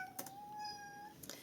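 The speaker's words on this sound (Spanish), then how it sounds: "Ese es mi gato, el que se oye, porque quiere salir y no lo dejo." A house cat meows to be let out, one short, faint, drawn-out meow with light clicks before and after.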